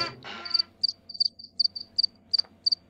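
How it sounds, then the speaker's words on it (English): Crickets chirping in short, sharp, evenly spaced trills, about ten bright pulses in a steady rhythm over a quiet background, with a brief rustle at the start. "first we have to get the crickets ready"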